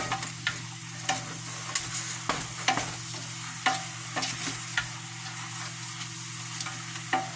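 Chopped meat chunks for Oaxaca-style yellow mole are stirred in a pot, giving a low steady sizzle with periodic sharp scrapes and knocks of the spoon, close up and alone without talk.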